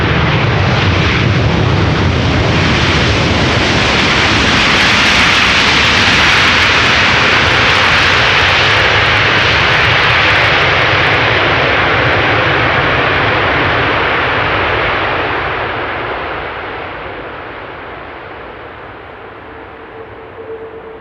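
A Delta Airlines airliner arriving from Seattle at Amsterdam Schiphol roars loud and close with broad jet engine noise, holding steady before fading over the last several seconds.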